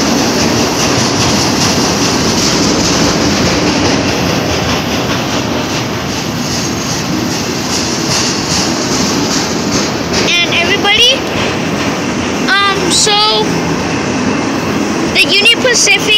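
A long Norfolk Southern freight train rolls past on Union Pacific track, a loud continuous rumble of wheels and cars with rhythmic clatter and occasional high wheel squeals near the end.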